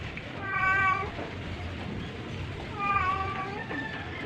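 A pet cat meows twice, a few seconds apart, over a steady background noise in a home during a faucet installation.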